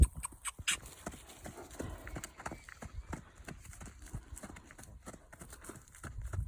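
A barefoot quarter horse gelding, about 16 years old, trots on a lunge line, its unshod hooves landing in a steady, fairly close series of soft thuds over a quiet outdoor background.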